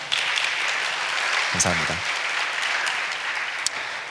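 A church congregation at a joint worship service claps steadily throughout, a sustained wash of applause, while a voice briefly speaks over it midway.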